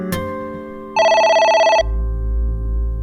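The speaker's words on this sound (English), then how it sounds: "The phone is ringing." A phone in the video game AI: The Somnium Files gives one loud, trilling electronic ring burst after a brief click, then stops and a low rumbling background tone follows, with no talking.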